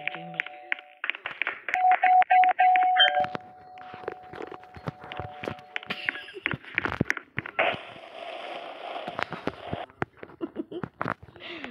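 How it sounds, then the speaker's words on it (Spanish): A doorbell rings indoors as a steady electronic buzzing tone, sounding in a couple of sustained bursts, followed by footsteps and handling thumps nearby. "Están tocando el timbre."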